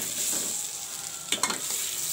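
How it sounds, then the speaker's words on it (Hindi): Potatoes with turmeric stirring and frying in a pan for spiced pickle-style achari aloo: a steady, close sizzle, broken near the end by a couple of quick spoon scrapes against the pan, with no talking. "थोड़ी सी हल्दी, इसे भी मिक्स करके हम इसमें आलू ऐड कर देंगे"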